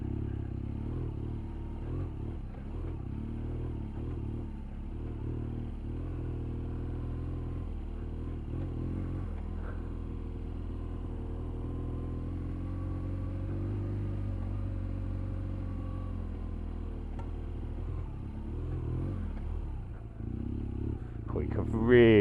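A BMW R1200GS adventure motorcycle rides off-road through loose sand, its engine a steady, close, low rumble that holds throughout with slight swells, under occasional talk from the rider.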